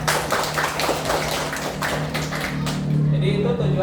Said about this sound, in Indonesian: Ya, tepuk tangan dulu buat kita.